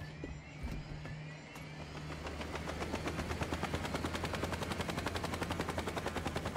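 Helicopter in the Saints Row video game, a steady rapid rotor chop that grows louder and fills the scene, with low engine drone and bursts of gunfire-like rattling over it.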